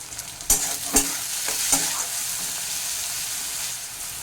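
Crushed onion and garlic paste with salt frying in a pan for a light chicken curry, a constant sizzle broken by a few sharp knocks of a stirring spoon early on, with no talking.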